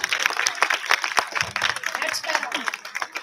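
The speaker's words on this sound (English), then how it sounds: "you have to give him a huge round of applause" Audience clapping for a speaker at a book fair session on Indo-Pak diplomacy, a steady wash of applause through the room with some voices mixed in.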